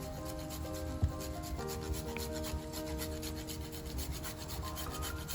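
Nutmeg is grated for a Diwali palak paneer dish, a steady repetitive rasping scrape, close and continuous, heard under soft background music.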